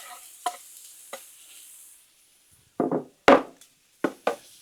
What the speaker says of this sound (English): Let's get our bacon over here on this side.